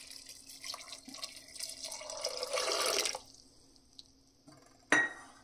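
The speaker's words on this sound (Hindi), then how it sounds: "और पानी डालेंगे फ्रेश।" Fresh water poured into a pressure cooker holding lobia (black-eyed peas) with turmeric and salt, a steady splashing pour for about three seconds, then quiet with a few drips and one sharp clink near the end.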